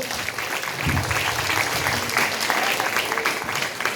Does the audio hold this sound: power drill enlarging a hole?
no